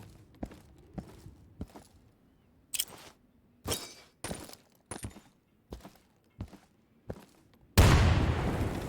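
A grenade explosion in the tactical shooter Insurgency, with a loud, broad blast near the end. Sharp impact and gunfire-like cracks go off at irregular intervals before it.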